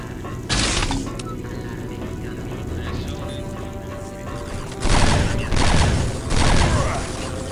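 Pump shotgun blasts in the video game Pariah, a few loud, close booming shots separated by pauses over steady game background noise.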